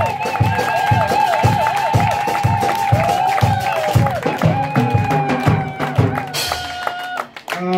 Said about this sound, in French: Nous acclamons très fort, très fort.